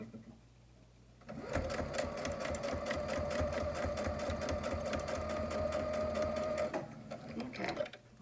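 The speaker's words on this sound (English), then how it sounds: "I'm going to do a double stitch, all right? I'm going to do this edge." A sewing machine double-stitches the edge of a fabric mask, a fast steady mechanical whirr that starts abruptly and runs for about five seconds before stopping, close and loud with no talk over it.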